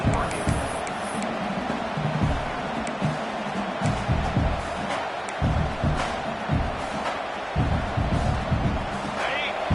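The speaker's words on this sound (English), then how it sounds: "And here comes the noise." Stadium crowd noise in a college football video game, Iowa against Oregon, a broad steady roar swelling and pulsing under a play-by-play commentator's voice.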